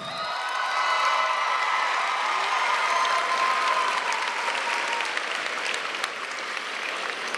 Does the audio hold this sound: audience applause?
yes